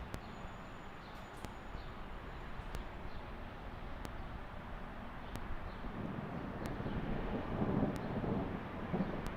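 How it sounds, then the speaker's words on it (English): Faint, distant thunder rolls through the South Valley near Salt Lake City, a low rumble that builds in the second half under light background noise and occasional sharp clicks. "you can hear the thunder rolling through the South Valley here"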